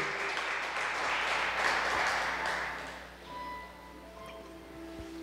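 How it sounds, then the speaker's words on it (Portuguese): Congregation applauding in a church, a dense wash of clapping that holds steady for about three seconds, then thins out to a few scattered claps while faint tones from the sound system linger underneath. "Aplauda ao Senhor"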